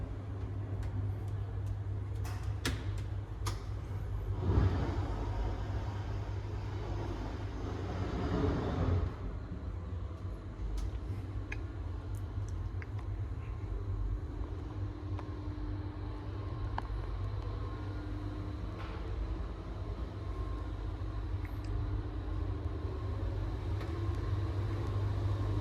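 An old two-speed AC motor drives a slow, modernized historic birdcage-shaft elevator in Stora Nygatan 36, Sweden, giving a steady low hum and rumble throughout the ride, with a few faint clicks and ticks on top.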